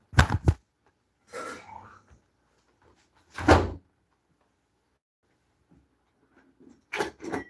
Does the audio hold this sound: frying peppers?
no